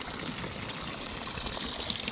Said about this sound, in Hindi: नीचे से जो है ये पानी निकल रहा है